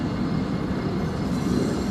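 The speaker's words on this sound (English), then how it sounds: "Here we see IM-1 building up its train." An intermodal freight train on an Illinois transfer job rumbles steadily nearby as it builds up, with a continuous heavy rolling roar of cars and wheels.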